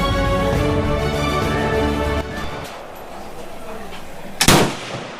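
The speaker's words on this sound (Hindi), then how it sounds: "हाँ लेकिन मैं शूट ज़रूर करके देखूँ।" A gunshot cracks out sharply at a Cu Chi Tunnels shooting range in Vietnam, one loud burst near the end after a stretch of steady low rumble and background noise.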